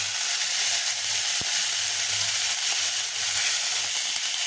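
Onions frying in mustard oil hiss in a loud, steady sizzle as a splash of water hits the hot pan, with broad steamy crackle running throughout.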